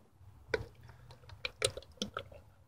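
Fresh motor oil poured into an engine's filler, heard as scattered wet glugs, drips and splashes that come in uneven bursts, close by and quiet, with no talking.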